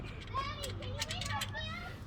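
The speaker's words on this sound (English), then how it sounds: "sorry if you hear the kids screaming in the back there in the pool" Children shriek and play in a swimming pool somewhere in the background, high excited voices overlapping in bursts of screams and calls, fairly faint and distant.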